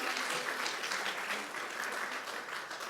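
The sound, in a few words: audience applause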